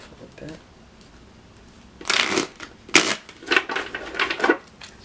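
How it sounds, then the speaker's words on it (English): Tarot cards shuffled by hand in a few quick riffling bursts, close and fairly loud, after a quiet stretch with faint voice in the background. "So let me shuffle a bit."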